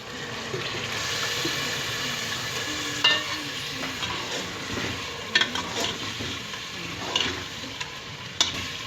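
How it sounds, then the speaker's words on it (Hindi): Gosht (meat) fries in oil with onion and ginger-garlic paste for tinday gosht, giving a steady, close sizzle with occasional scraping stirs of a spoon against the pot. "तो जी गोश्त को अच्छे से फ्राई कर लीजिए ऑयल ऊपर आने तक।"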